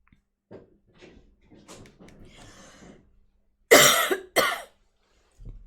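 Two sharp, loud coughs close together follow some quiet shuffling and faint breathy sounds, then a soft low thump at the end.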